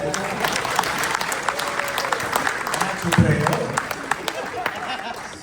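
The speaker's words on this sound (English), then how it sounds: "And we have a round of applause for her" A farewell gathering for a retiring company director breaks into applause, a sustained patter of many hands with a brief swell in the middle, while a voice talks over it.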